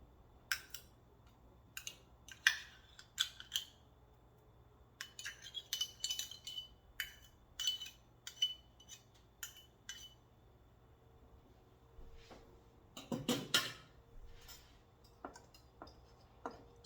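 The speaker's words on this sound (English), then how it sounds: "So I just use my whisk to cut the butter right in." A whisk cuts butter and shortening into gluten-free pie dough in a bowl, giving sharp metallic clinks and scraping ticks in irregular bursts, some clustered rapidly, close and fairly clear with no voices.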